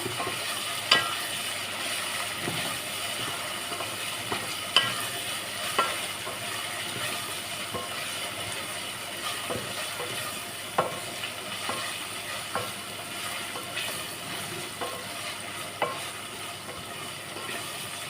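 Chili and spices frying in a pan, a steady sizzle with occasional stirring clicks and scrapes, close and continuous throughout.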